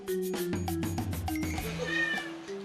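A house cat cries in a quick string of repeated meows, near and fairly loud, with a drawn-out wavering call toward the end and no voices.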